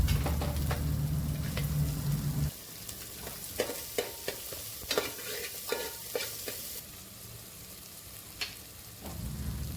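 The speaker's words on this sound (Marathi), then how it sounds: "कांदा थोडासा भाजून घ्यायचा आहे" Onion fries in a pan with grated garlic and ginger for dal khichdi, a loud sizzle for the first seconds, then repeated sharp stirring scrapes and clicks, with the sizzle swelling again at the end.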